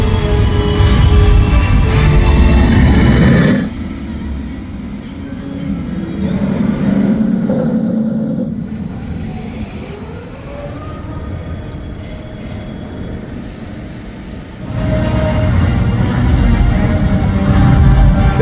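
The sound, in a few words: SeaWorld Penguin Trek roller coaster train running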